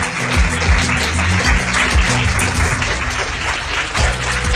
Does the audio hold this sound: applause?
yes